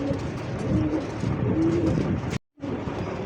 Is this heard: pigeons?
yes